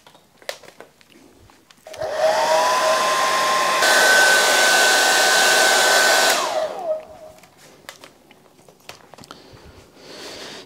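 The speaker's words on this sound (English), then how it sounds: "speed dry this very quickly" A hair dryer switches on and blows loudly for about five seconds, stepping up to a higher setting partway through, to speed-dry a watercolor painting before winding down, with light handling noises around it.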